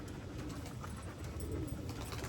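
Pigeon or dove softly cooing in a short, low, rhythmic series, fairly faint and close, with no talking.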